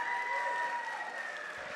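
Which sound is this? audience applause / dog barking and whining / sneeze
audience applause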